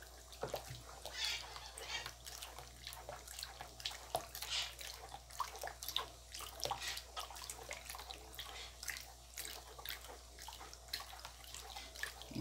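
A spoon stirs a homemade dish detergent made from lemon leaves, producing soft, continuous liquid swishing and sloshing at a faint, close level.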